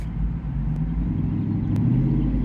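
An Aston Martin V8 Vantage S engine starts and settles into a deep, steady idle rumble, loud and close, with no talk over it.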